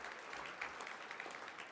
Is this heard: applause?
yes